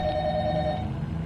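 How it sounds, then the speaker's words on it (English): A telephone bell rings steadily and loudly throughout, a continuous electronic trill with no breaks and no voices. "the phone is just ringing"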